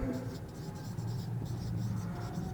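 Chalk writing on a classroom board during a Class 6 science lesson, a steady scratchy scraping that runs continuously under a low hum of room noise and faint background voices.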